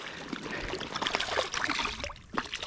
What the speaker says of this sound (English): the creek is flowing pretty good today